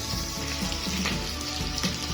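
Oil goes into matumbo (beef tripe) cooking in a dry sufuria, and a steady, dense sizzle and crackle of frying carries on without a break throughout, close and continuous.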